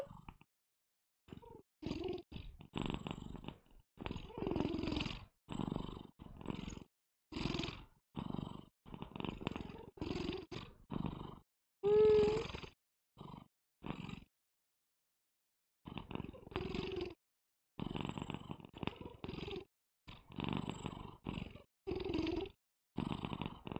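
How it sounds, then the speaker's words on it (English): Close purring from a cat held near a microphone, a long run of rhythmic rumbling bursts with short pauses, loud and intimate, no talk. "This cat just keep on purring."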